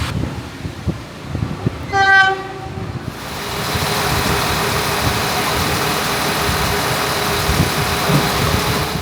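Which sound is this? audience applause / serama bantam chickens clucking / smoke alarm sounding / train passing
train passing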